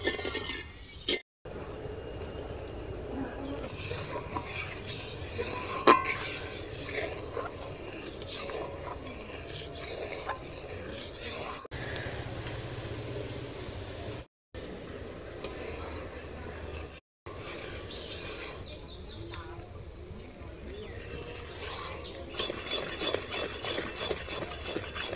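Jaggery and sugar cooking together in a pot, stirred with steady scraping and rubbing strokes that run continuously at moderate level, broken by a few short pauses.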